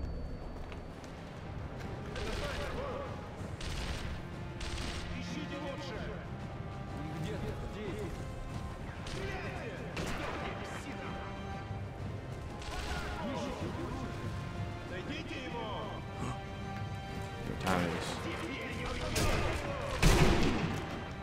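Bolt-action rifle fire in Sniper Elite V2 rings out as scattered sharp shots amid a busy combat mix, with a person talking over much of it and a louder crack near the end.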